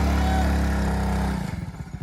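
A new motorcycle's engine runs loud and close, a dense rumbling drone that holds steady, then cuts back to an uneven, sputtering idle near the end, with no talk over it.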